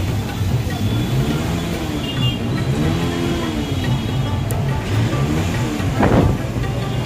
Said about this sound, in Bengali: এখানে কিন্তু যানবাহন খুবই ধীরে গতিতে চলছে।